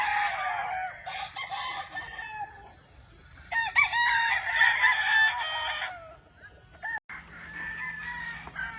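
Gamefowl rooster at a game farm in Sorsogon crowing loudly and close by, with several drawn-out crows and some clucking between them, and no talk.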